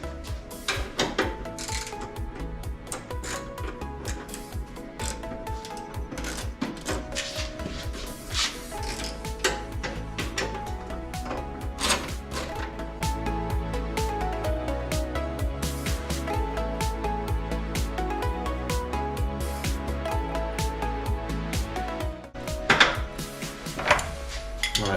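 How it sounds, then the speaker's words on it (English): Bolts are loosened with a Torx T25 inside a 2018 Audi S5, giving a steady run of close metallic clicks, ratcheting and clinking of tools and parts that continues throughout, with no talking. "take these out. 2 bolts. It's and you just loosen it with a T25."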